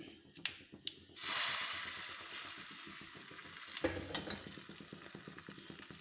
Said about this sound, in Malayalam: കടുക് പൊട്ടി നമുക്ക് ഒഴിച്ചേക്കാം.